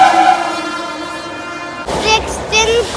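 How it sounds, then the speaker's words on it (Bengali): A train passes a station platform, a loud low rumble and roar of the cars that gives way near the end to brighter clattering and squealing sounds, with no speech. "ট্রেন কত জোরে গেল দেখলে?"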